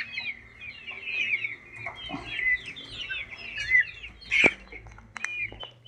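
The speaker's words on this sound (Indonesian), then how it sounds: "mari kita lihat ayam dulu yang saya karantinakan kemarin" Free-range village chickens held in a simple quarantine pen, kept apart for swollen-eye snot disease, cluck and chatter continuously at close range, with one sharper, louder squawk near the end and no one speaking.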